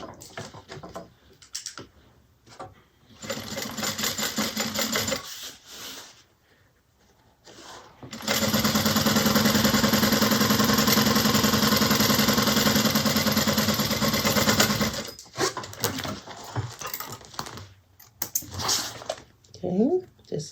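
A sewing machine runs a quarter-inch seam joining two fabric pieces laid right sides together for a bag, one steady loud run of several seconds after softer handling noises and speech before it, with brief rustling afterward.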